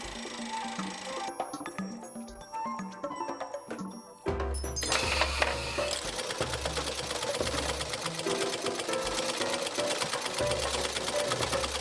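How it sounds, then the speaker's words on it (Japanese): A sewing machine stitching fabric in a small garment workshop, running as a steady rapid mechanical chatter that gets louder and denser partway through, with a low motor drone underneath and no talk. "縫うパーツによって使うミシンも様々。"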